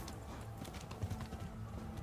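Horse hooves gallop in Kingdom Come: Deliverance, a steady, fairly close clip-clop rhythm over two seconds with faint background noise and no talking.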